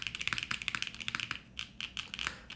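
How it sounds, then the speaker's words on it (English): Steady typing on a custom tray-mount keyboard with a silicone case rather than all-aluminum, producing soft, rapid, evenly spaced clacks close up, with no voices. "it's silicone, it's not all aluminum. So it's a pretty soft typing experience for like a tray mount as well"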